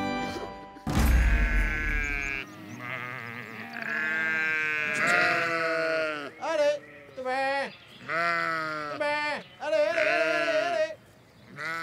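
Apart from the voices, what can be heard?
sheep bleating at feeding time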